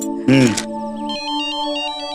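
An electronic phone ringtone plays a repeating melodic pattern, clear and nearby, after a short burst of a voice at the start.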